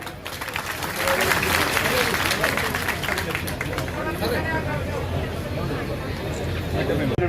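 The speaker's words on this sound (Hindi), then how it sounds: "जोरदार तालियां बजाएं।" Sustained applause from a crowd at a village public outreach meeting with the Haryana chief minister in Ramsaran Majra, Kurukshetra, steady and dense throughout, with crowd babble mixed in.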